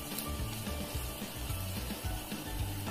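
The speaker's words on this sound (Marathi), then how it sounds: "अशाच प्रकारे मी ह्या पूर्ण गोल पापड्या तळून घेते" Gul papdi puris fry in hot oil with a soft, continuous sizzle and faint bubbling, a quiet and steady kitchen sound with no talking.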